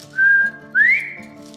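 A person whistles an imitation of a bobwhite quail call: a steady high note, a short pause, then a sharp rising slide that trails off, loud, close and alone.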